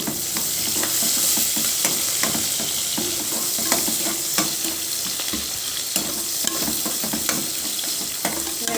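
Onions, green chillies and curry leaves sizzle in a pan, a loud, steady frying hiss broken by frequent rhythmic scrapes and taps of a spoon as they are stirred.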